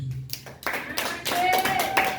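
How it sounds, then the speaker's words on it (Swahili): A church congregation claps, sharp scattered hand claps that thicken into a denser burst, close and fairly loud, with a voice and a sustained tone running beneath. "Jamani, haya makofi yanatosha Yesu"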